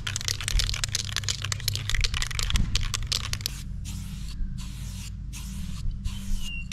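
Silicone-based spray paint hisses from an aerosol can in a series of short, close bursts with brief gaps, fairly quiet, and no talk.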